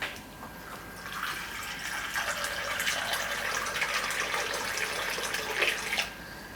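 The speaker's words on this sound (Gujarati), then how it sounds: "હજી 1 કપ પાણી આપણે આમાં જોઈએ." Water poured into a pot of Gujarati mixed dal vadi shaak curry, a steady splashing rush of moderate loudness lasting several seconds, close by with no talking.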